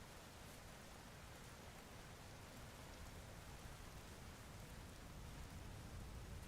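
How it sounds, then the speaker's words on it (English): Steady rain hisses in Vintage Story, an even, faint wash of falling water with no break or voices. "And it's raining over here."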